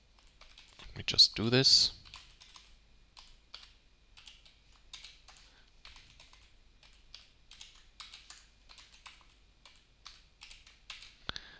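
Someone types passwords on a computer keyboard: a brief spoken phrase, then a long run of light, uneven key taps at close range, faint and steady, ending with a single sharper click.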